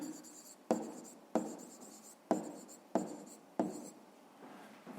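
A pen or chalk writes a decimal number by hand on a surface, six evenly spaced scratchy strokes, each a sharp onset fading away, faint and close with no voices.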